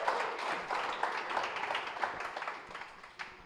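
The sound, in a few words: audience applause at a live podcast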